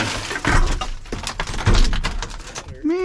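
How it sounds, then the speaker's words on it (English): An old 1979 Ford F-250 welding truck has its window glass smashed out with a Letterman multitool, giving several sharp cracking and shattering hits in an irregular rhythm, loud and close. "I'm gonna smash this fucking glass out though"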